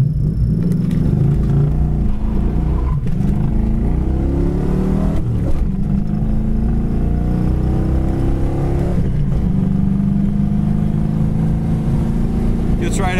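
A black 1985 Ford Mustang 5.0 with a five-speed manual accelerates on the road, its V8 rumbling low and steady with rising engine pitch through the gears and a brief shift dip, loud and close from inside the car.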